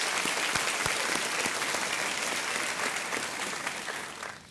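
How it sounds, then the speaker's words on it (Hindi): A studio audience on the quiz show KBC applauds to welcome a contestant, with dense, loud and steady clapping that fades slightly at the end. "तालियों के साथ इनका स्वागत किया जाए"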